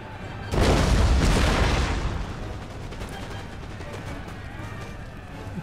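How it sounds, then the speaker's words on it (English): Artillery in the Empire: Total War strategy game blasts a castle wall, a loud deep booming impact that rumbles for over a second and then settles into a lingering low crackle of battle. "This section of the wall is about to be destroyed."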